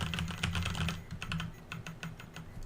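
Typing sound effects from the Opera GX gamer browser give rapid, crisp keyboard clicks in an uneven rhythm, fairly quiet and close, with no talking over them.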